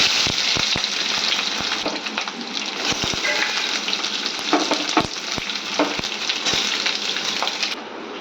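Onions are added to hot oil already holding bay leaf and cumin and fry with a loud, steady sizzle, broken by sharp clinks and scrapes of a spoon stirring in the pan, with no talking.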